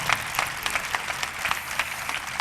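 A church congregation at St Mark Parish in Gujranwala claps to welcome Archbishop Sebastian Francis Shaw, a fairly faint, uneven patter of hands from a moderately distant crowd.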